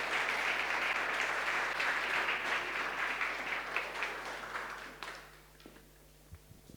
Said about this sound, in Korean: 우리 목사님 박수로 우리 맞도록 하겠습니다.